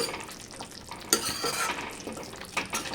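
A curry spiced with garam masala sizzles in a pan while a spoon stirs it in quick scraping strokes, with a sharp clatter near the middle, close and fairly loud.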